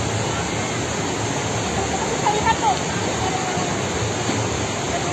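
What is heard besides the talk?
waterfall and river at Curug Niagara Cipamangkis, Jonggol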